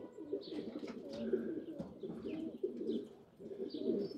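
Pigeons cooing close by in repeated soft, throaty phrases, several overlapping calls with a few faint chirps, outdoors with no talking.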